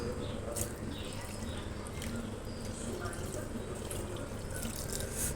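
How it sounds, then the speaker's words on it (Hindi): Cold tap water is poured over fresh chhena (paneer) in a cloth, a faint, continuous splashing trickle with light drips. It runs evenly throughout over low background noise, with no clear voices. "अब इसमें मैं ये ठंडा पानी डालूँगी, नॉर्मल नलके वाला पानी।"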